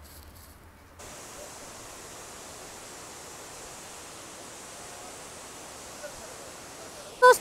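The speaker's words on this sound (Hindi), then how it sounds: "अभी हम जा रहे हैं वाटरफॉल के नीचे" Steady broadband rush of a waterfall at Cherrapunji, Meghalaya, starting abruptly after a quiet second and continuing as a constant close roar, with brief louder knocks near the end.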